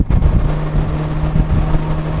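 A Polaris Slingshot's engine running while driving, a loud low droning engine tone with a sustained hum, mixed with wind buffeting against the microphone, close and continuous without talking.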